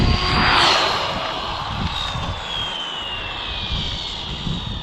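A radio-controlled model aircraft's engine opens up on a pass, a loud, high buzzing whine that surges up close and then slides lower in pitch as it moves away.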